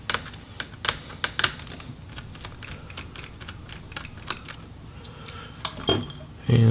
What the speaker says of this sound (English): we're just going to go ahead and remove the screws for the in-out board as well